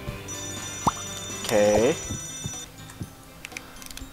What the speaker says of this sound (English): Chargeless fire alarm. Can I test this first?